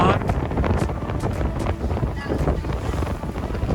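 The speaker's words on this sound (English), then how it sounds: "So we're in a gust right now a little bit." Gusty wind rushing over a sailboat racing upwind on Lake Erie, a steady, loud, buffeting roar of wind across the microphone with faint water and hull noise beneath, continuous throughout.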